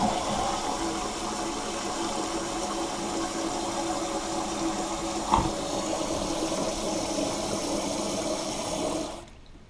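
A toilet with a Fluidmaster 400A fill valve flushes and refills, a steady loud rush of water lasting several seconds with a brief clunk midway, then cutting off abruptly.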